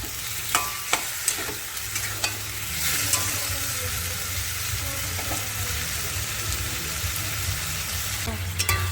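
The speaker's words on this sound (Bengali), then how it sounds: "আলু মশলাটা ভালো করে কষিয়ে নেব যতক্ষণ না তেল ছাড়বে মশলা থেকে" Potatoes and spice paste sautéing in oil for a Bengali katla fish curry with cauliflower, a steady sizzle beneath repeated scraping stirs of a spatula against the pan, close and continuous.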